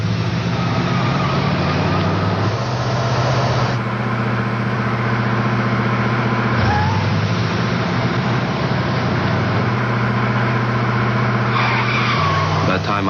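A car engine revs hard as the driver floors it to overtake a runaway car at speed, a loud continuous roar with shifting pitch steps and some tire noise throughout.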